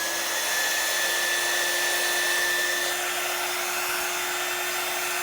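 A hair dryer runs in a steady, unbroken whir close by, drying chalk paste on a Christmas gnome craft project.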